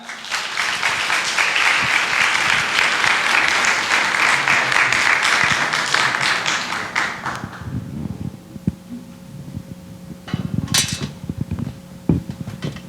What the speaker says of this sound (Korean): 우리 목사님 나오실 때 우리 뜨거운 박수로 환영하겠습니다.